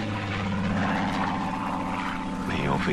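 Aircraft engine drone fills the scene in a Korean War drama, a continuous low propeller-like roar holding steady with a slight rise near the end.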